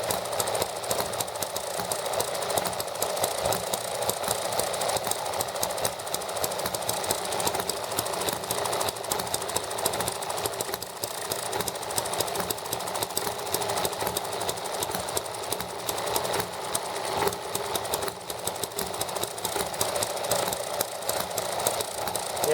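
ET7 engine running after a restart, a steady, dense mechanical drone with a rapid knocking rattle that holds unbroken and fairly loud for over twenty seconds with no voices.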